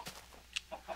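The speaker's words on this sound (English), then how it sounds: "Lots of chickens." Chickens cluck in Minecraft, a video game, with a few short, faint, quick clucks scattered across a quiet second.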